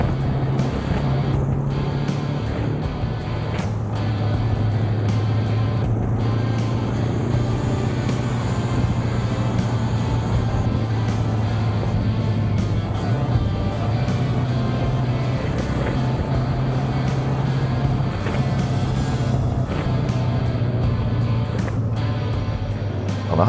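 A Jawa 350 OHC motorcycle ridden through a run of fast curves on an empty road, its engine drone steady and loud throughout with wind noise and no talking.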